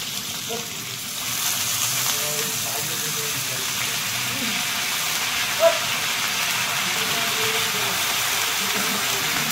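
Shredded cabbage tossed into a hot frying pan for spring roll filling, producing a steady, dense sizzle that holds throughout with one small clink partway.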